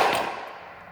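A faulty house door bangs once, a sharp close impact with a short ringing decay that fades over about a second.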